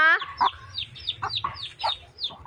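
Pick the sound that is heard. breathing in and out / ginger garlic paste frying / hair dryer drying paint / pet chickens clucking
pet chickens clucking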